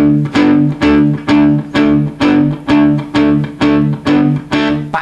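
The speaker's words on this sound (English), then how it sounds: "you might have noticed I'm using palm muting." Distorted electric guitar chugs palm-muted power chords in a steady repeating rhythm, each chord hitting hard and then cutting off short, loud and up front with no voices.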